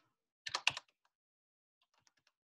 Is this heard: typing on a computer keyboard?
yes